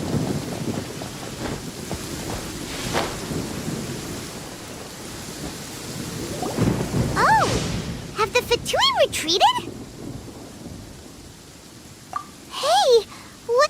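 Game thunderstorm in Genshin Impact: a steady rain hiss with low thunder rumbles through the first half, then sharp, bright electronic chirping sounds and raised voices talking over the storm.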